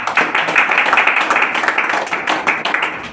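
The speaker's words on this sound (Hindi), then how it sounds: "इनके लिए एक बार जबरदस्त तालियां" Audience at a retail store seminar in Goregaon West clapping for a customer, a short dense burst of hands clapping close by.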